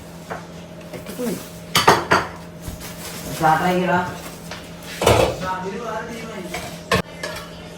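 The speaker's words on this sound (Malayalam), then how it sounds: "അയ്യോ ചട്ടി" Metal cooking pot and dishes clattering in a home kitchen, several sharp knocks and scrapes at irregular intervals, close and fairly loud, with people talking around them.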